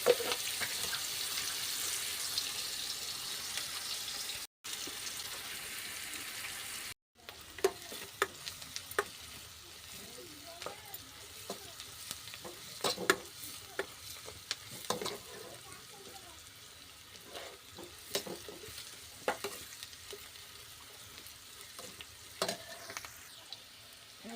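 Onions sizzle and fry in a pan, with intermittent scraping and stirring clinks over a steady crackle; quiet and close throughout, with two brief dropouts early on and no talking.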